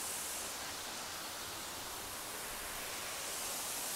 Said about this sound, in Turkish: Şelalenin sesi, manzara gerçekten bayağı güzel.